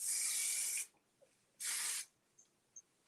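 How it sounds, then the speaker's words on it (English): Hairspray misted onto a styled hairdo at home in two bursts, a long hiss of almost a second, a pause, then a shorter hiss, close and fairly loud with faint small clicks in between. "afterwards, you can just kind of give it a little spray."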